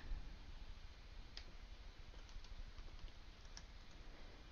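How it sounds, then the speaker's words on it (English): Keys tapped on a computer keyboard while typing a folder name, a steady run of soft, close clicks over a low background hum with no talking. "I'm go going to type PowerPoint and press enter"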